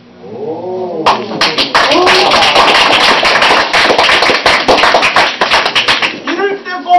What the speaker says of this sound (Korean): 이럴 때 꼭 박수 치더라고요.